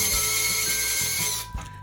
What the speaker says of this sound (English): Now you can undo the 2 screws